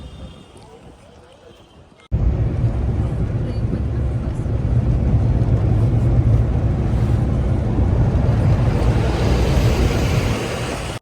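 A Maruti Eco van on the road gives a steady low engine drone and road rumble that starts abruptly and holds loud and even inside the cabin.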